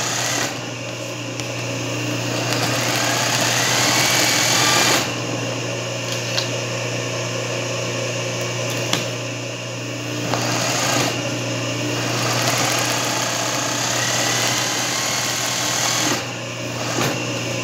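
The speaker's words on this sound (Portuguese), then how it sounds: "Terminei de passar a costurinha reta, eu venho com um zigue-zague bem fininho por cima" Sewing machine stitching a fine zigzag over straight stitching in richelieu embroidery, running in a steady fast whir close by, with short pauses between stretches of sewing.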